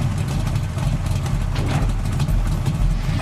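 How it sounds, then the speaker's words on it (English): A 1970s V8 muscle car engine revs with a deep, throaty rumble, steady and nearby, loud and low with a slight pulsing throb. "He's revving his V8 muscle car from 1970s."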